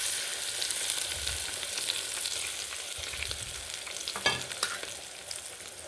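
A tempering with asafoetida fries in a pan for gongura chutney, keeping up a continuous close crackling sizzle with occasional stirring clatter and no speech.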